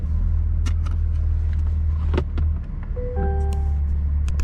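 A 2022 Chevrolet Corvette C8 Z51 with a transmission fault rolls in for service. Its engine gives a deep, steady rumble close by, with a few light clicks and a short tonal chime over it.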